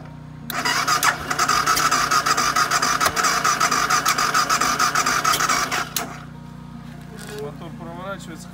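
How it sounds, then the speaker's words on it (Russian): A BMW F650CS motorcycle with 5431 km on it cranks and catches, then runs with a steady, buzzy engine note for about five seconds before shutting off. Faint clicks follow, with a brief voice near the end. "Мотор проворачивает, схватывает, но нужно будет, скорее всего, почистить топливную."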